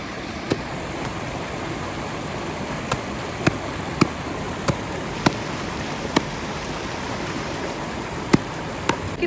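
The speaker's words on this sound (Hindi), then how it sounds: "अब हम कपड़े धोना स्टार्ट कर चुके हैं गाइस" Clothes are washed by hand in a cold, clear mountain stream in Lahaul, with the steady rush of flowing water and sharp, irregular slaps of wet cloth every second or so.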